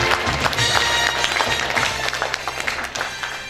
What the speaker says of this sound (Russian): Итак, ваши бурные аплодисменты. Александр Николаевич Павлов.